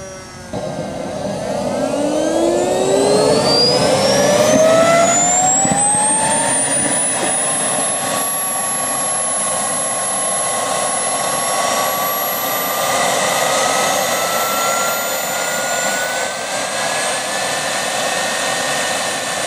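A small Jetcat P-20 SE model jet turbine spools up with a rising whine climbing steeply in pitch, then settles into a loud, steady high-pitched idle roar at 85,000 RPM.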